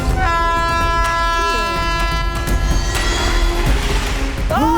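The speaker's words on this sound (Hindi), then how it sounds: "लेकिन उस ट्रैक पर पैसेंजर ट्रेन राइट टाइम पर आती है सर।" A passenger train approaches along the track in a film scene, its horn sounding in long sustained tones over rumbling wheels and background score, with brief voices and shouting mixed in.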